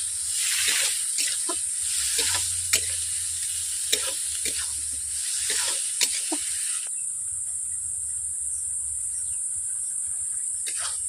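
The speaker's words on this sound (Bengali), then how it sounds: "এরপর মটর আলুকে আমি কষিয়ে নিচ্ছি 10 মিনিট ধরে।" Boiled peas and potatoes are fried and stirred with cooked spices in a pan for ghugni, a steady close sizzling hiss broken by repeated scraping stir strokes; the sizzle thins out partway through.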